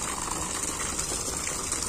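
Floodwater is bailed and poured out of a house in Rajasthan after record heavy rain, making a steady, continuous gushing rush of water that fills the whole stretch without a break.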